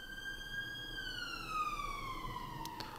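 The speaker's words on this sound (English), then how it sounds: "as the police car goes past" A police car siren wails steadily as the car passes, its pitch sliding lower as it goes by. It sounds moderately distant and fairly faint, with no talking over it.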